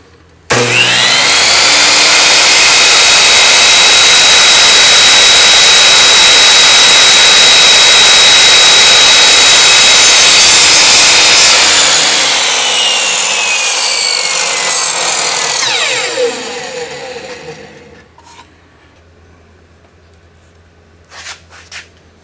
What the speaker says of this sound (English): let me take this over to the chop saw station